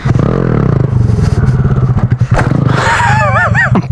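A small Honda Grom motorcycle revs loudly through a wheelie, then loops over, with a harsh scrape and clatter of metal on pavement toward the end and squealing tones as it tumbles.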